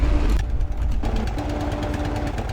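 A tank engine in the video game Sprocket running hard at high RPM, a loud continuous throbbing drone with a rapid knocking pulse and a faint steady whine, alone without talk.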